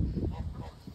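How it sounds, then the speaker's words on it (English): Geese in a farmyard pen alongside ducks, heard as a short burst of close, loud, rough honking calls repeating in quick succession. "here's all the duckies, here's all the cold ducks and some geese"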